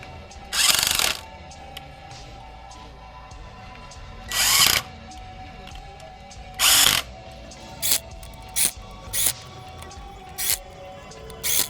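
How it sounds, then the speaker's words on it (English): A power drill driving bolts on a KLR650 motorcycle runs in bursts: several longer whirs, then a string of short, quick pulses, with quiet gaps between each. "I'm gonna go get my drill."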